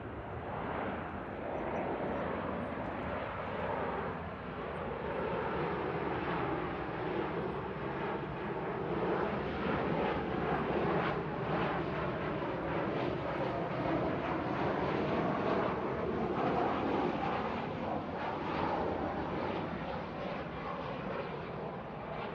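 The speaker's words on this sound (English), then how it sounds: "Steady stream of Ryanairs and EasyJets coming in." Ryanair and EasyJet airliners landing at Manchester Airport produce a continuous, fairly distant jet roar that swells and shifts slowly in pitch over more than twenty seconds, steady and unbroken with no talk.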